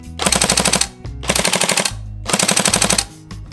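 A Tokyo Marui SCAR H Next Gen airsoft rifle fires three loud, close full-auto bursts of rapid mechanical shots, each just under a second long, separated by short pauses with the action clacking between them.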